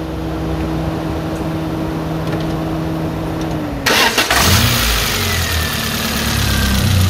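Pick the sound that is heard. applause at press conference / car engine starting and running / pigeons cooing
car engine starting and running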